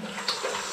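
Cold water runs from a tap in a steady, close rush of splashing with a brief brighter spatter partway through.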